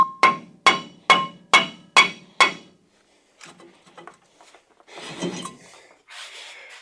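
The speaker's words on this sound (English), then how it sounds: "start smacking it with the hammer" Six sharp, evenly spaced metallic hammer blows ring out on a stuck rear brake rotor of a Chevy Silverado 2500HD, close and loud, followed by softer scattered clanks and rattling as the part loosens.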